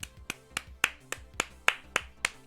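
Sharp, evenly spaced hand claps from a single person, about eight in quick succession, close and crisp with no talking over them.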